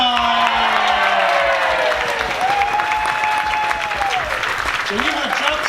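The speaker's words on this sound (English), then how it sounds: "Let's have a final round of applause for everyone who participated." Audience applause and cheering for the winner of a Morris dance jig competition, a steady dense wash of clapping with whoops and shouted voices rising over it throughout.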